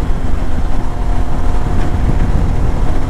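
A Suzuki V-Strom 650 adventure motorcycle riding along the Great Ocean Road in Victoria, a steady low engine drone under heavy, continuous wind rush across the microphone, loud and close throughout.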